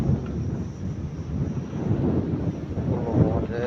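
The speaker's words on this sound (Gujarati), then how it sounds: "વાડીમાં આજે અતિશય પવન છે" Strong wind sweeps across an open farm, roaring and buffeting the microphone in a loud, continuous rush with no pauses.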